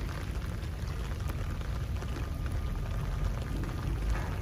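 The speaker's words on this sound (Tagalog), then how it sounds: "Umuulan na." Rain falling on Manila Bay's dolomite sand beach, a steady dense patter with continuous low rumble, no talking.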